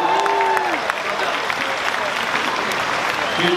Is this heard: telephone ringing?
no